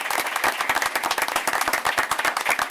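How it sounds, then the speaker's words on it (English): Applause from the audience at a school board of education meeting, close individual claps in a brisk, uneven rhythm over a continuous bed of crowd clapping. "please give them a round of applause."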